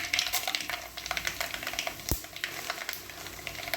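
Mustard seeds and dried chillies fry in hot oil with a steady, close sizzle and crackle, broken by scraping stirs and a single sharp metallic clank of a spoon against the pan.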